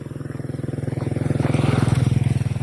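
A small motorcycle engine runs close by, its steady pulsing idle rising slightly in loudness, with a rapid even beat and faint talk in the background.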